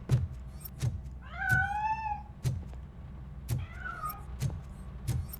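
Meows from a cat hiding inside a piano in RoboCop: Rogue City, two drawn-out rising calls set among regular low thumping footsteps, moderately quiet with no talk.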